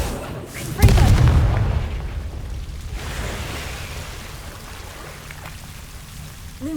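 A Confringo fire spell blasts in Hogwarts Legacy: one sudden loud boom with a crackling burst that fades into a rumbling, rain-like hiss over several seconds.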